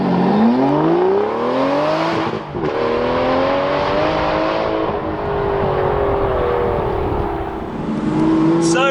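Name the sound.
Aston Martin V12 Vantage S Roadster engine accelerating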